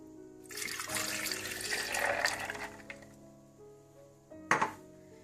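Ice cubes clatter and rattle into a glass for cold coffee, a busy rush of clinks followed by a lone sharp clink near the end. The sound is close but fairly soft.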